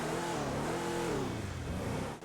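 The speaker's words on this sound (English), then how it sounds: "And the noise the car makes I can only describe as deliberate." The Vapid Winky, a stripped-down military-style car in GTA 5 Online, revs its engine in a steady mid-pitched drone that climbs and dips in tone, loud and close, with no one talking.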